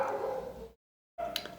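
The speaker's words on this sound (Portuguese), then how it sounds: "os meus cachorros estão latindo aqui fora" Pet dogs bark outside a house, a short muffled burst close by, then a pause of silence before more barking resumes.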